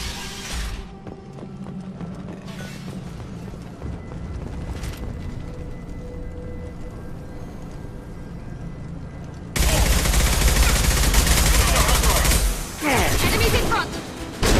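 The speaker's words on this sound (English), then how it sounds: "The Blue Suns and Vorcha shooting anything that moves." Sustained gunfire from Blue Suns mercenaries and Vorcha in Mass Effect 2, rapid bursts and fusillades over a low rumble, growing much louder and denser in the final seconds.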